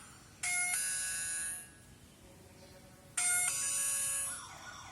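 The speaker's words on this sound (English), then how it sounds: "this one is also with doorbell function" An Orbita P8024 smart door lock sounds its doorbell chime twice, each time a bright electronic tone that rings out and decays, with a short pause between the two presses in a quiet room.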